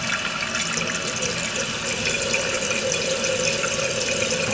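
Water rushes steadily into a refilling toilet tank during a repair, a constant hissing flow with no pauses and no talking.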